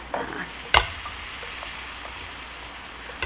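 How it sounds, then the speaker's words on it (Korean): Fried chicken being tossed and stirred into a reduced, syrupy sauce for kkanpunggi in a wok, a short scraping stir burst near the start over a soft continuous sizzle, with no talk. "국물이 다 졸여지면 얼른 넣고 비비는 거예요."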